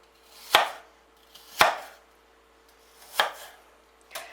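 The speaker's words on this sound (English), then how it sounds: "And now we want to slice them up thinly." A kitchen knife slices apples thinly on a cutting board for cobbler, giving four crisp, close chopping taps spaced unevenly, with no voices.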